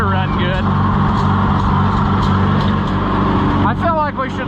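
A car engine with a brand new motor idles steadily just after being jump started from a NAPA Carlyle jump box, making a loud, continuous rumble nearby while a person talks over the top of it.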